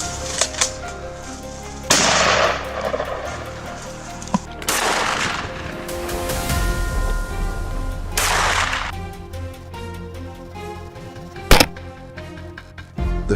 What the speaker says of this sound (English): I fired 3 quick shots.